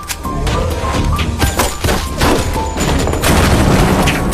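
Heavy, loud bursts of gunfire and booming impacts in an action film scene, dense and continuous over a rumbling soundtrack with no talking.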